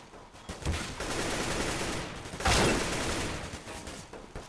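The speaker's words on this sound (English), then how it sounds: "And they're getting shot through the wall." Bursts of gunfire in the Counter-Strike map Cache pierce a wall as rapid overlapping shots, with a sharp loud volley about halfway through, over steady game ambience.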